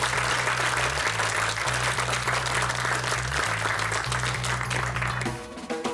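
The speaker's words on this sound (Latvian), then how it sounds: "Tad atbalsts un aplausi visiem dalībniekiem." Applause from an audience at a science contest final rolls on steadily under a loud sustained musical background, a dense wash of clapping that fades slightly near the end.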